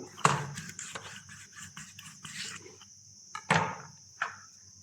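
A knife cuts through a large fish on a board for fish curry, giving a few sharp knocks and short scraping strokes separated by quiet pauses.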